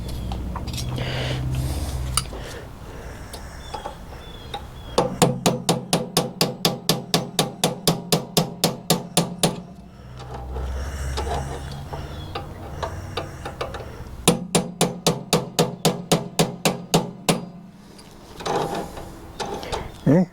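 A punch is hammered on an Ariens ST824 snow thrower part in two rapid bursts of regular metallic strikes, about a dozen evenly spaced blows each, with quieter handling noise and some talk between them.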